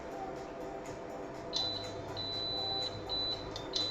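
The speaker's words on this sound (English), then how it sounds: "I do apologise if this beeping is really loud." A high, piercing electronic beep sounds in repeated sustained bursts in a kitchen during a cooking session, fairly loud over a low background hum.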